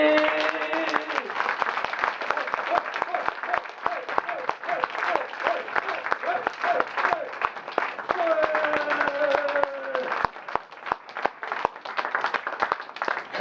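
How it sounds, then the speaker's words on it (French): An audience at a village theatre performance claps and cheers before the show begins, sustained applause with scattered whoops and a voice speaking over it. "je vous demande un tonnerre d'applaudissements"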